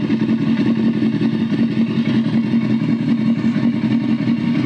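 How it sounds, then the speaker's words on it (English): A motorcycle engine runs steadily at idle, a low throbbing rumble with light mechanical clatter, close and continuous throughout. "listening to the engine run"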